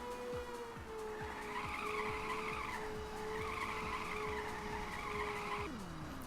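Tires skid and squeal as a race car drifts through corners in the Ridge Racer video game, the engine droning steadily throughout and a long screech sweeping across the whole stretch.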